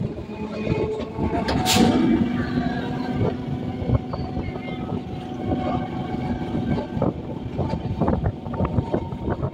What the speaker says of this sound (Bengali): পুরো বেঁকে আমাদের ট্রেনটা চলছে এখন